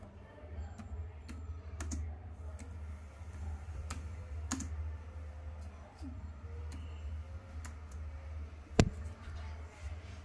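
A computer keyboard types a Google search, sparse distinct key taps spread irregularly over a steady low background hum, with one louder tap standing out near the end.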